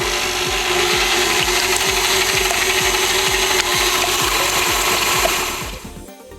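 Electric mixer whipping egg whites for macaron meringue, a steady loud mechanical whir with rapid rhythmic ticking that winds down near the end.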